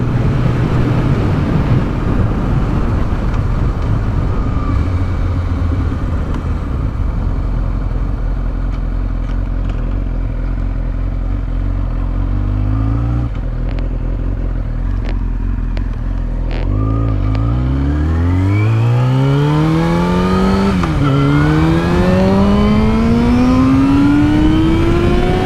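A 2003 Yamaha R6 motorcycle engine idling with a rough, steady throb, then revving up repeatedly, rising to a climbing high-pitched wail near the end, loud and close.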